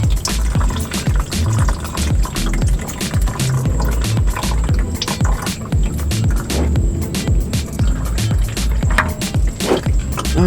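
Engine oil drains from the underside of a Nissan 370Z in a loud, continuous splashing gush with rattling, close up and steady throughout.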